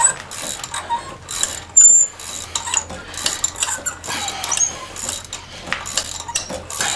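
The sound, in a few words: unscrewing spark plug on Honda Accord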